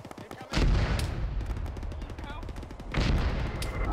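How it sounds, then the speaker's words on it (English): Gunfire in the ShackTac military game: a sharp, loud report near the start, then another burst toward the end, with scattered background crackle and faint voices between. "I think I heard a single shot."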